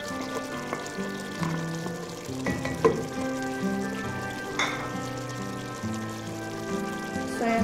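Tomato masala for salsa pasta frying in oil in a pan, a quiet continuous sizzle with occasional stirring clinks under soft tonal background music.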